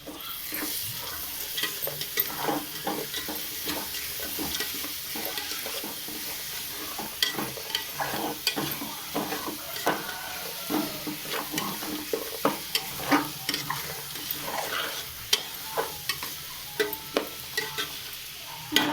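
Masala paste for veg biryani being mixed in a pan, a soft, steady sizzle with repeated scraping strokes of a spoon at an uneven pace, close and moderately quiet, no voices.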